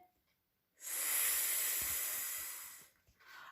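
A human voice imitates a snake's hiss with one loud, steady, breathy hiss lasting about two seconds, starting abruptly and fading out, with near silence before and after.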